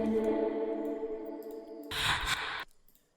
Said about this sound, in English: the reverb is playing only when the vocal is not playing